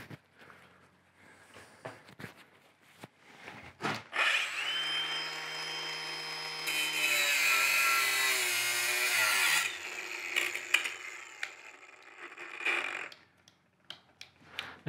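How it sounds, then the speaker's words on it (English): A power saw cuts through a length of household pipe upstairs: a sustained, fairly loud motor whine of about six seconds, framed by scattered knocks and clicks. "this is the last bit of pipe that we've got to cut"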